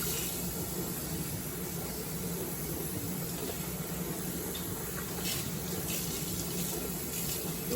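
Lukewarm tap water runs steadily from a faucet while conditioner is rinsed out of hair during a co-wash, a continuous close hiss and splash with no talking.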